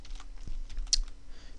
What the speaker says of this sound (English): So double click on the 3D view